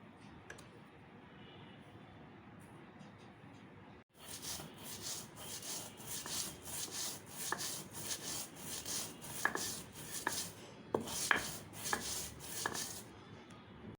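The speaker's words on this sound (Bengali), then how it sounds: "পেঁয়াজ দিয়ে মরিচ বাটলে মরিচটা তাড়াতাড়ি বাটা হয়ে যায়" Chili, salt and onion ground by hand on a stone, starting with quiet faint scraping, then a loud rhythmic back-and-forth rubbing and grinding that repeats steadily to the end.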